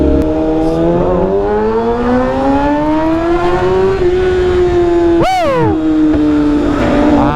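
A big bike motorcycle engine revving in first gear, the tone rising steadily and evenly, then a sharp high rev spike that quickly drops back to a strong idle; loud and close, with no voices.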